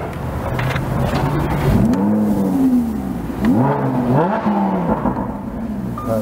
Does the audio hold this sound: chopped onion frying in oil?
no